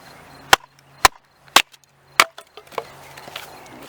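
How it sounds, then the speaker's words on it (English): A CRKT ChanceInHell machete chops dry locust wood with four sharp, loud, hollow cracks about half a second apart, followed by fainter knocks and rustling. "This wood's pretty well dried out, as you can hear. Hear that noise? Sounds kind of like lumber."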